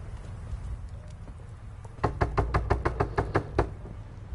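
Knocking on a door in The Quarry: about eight firm, evenly spaced raps in quick succession, close and clear, over a low ambient hum.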